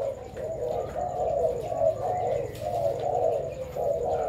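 Pigeons with long tails coo in repeated rolling phrases, steady and fairly close, under a low constant background hum with no talking.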